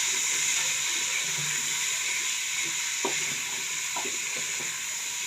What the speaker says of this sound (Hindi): इन सब चीज़ों को हम इस तरह भून लेंगे।